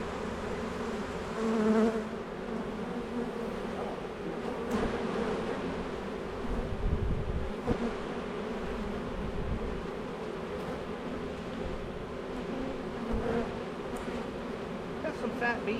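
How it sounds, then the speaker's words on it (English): Fat bees buzz steadily around a swarm trap outdoors, a continuous close hum that swells and fades as individual insects pass near, with occasional voices in the background. "Got some fat bees."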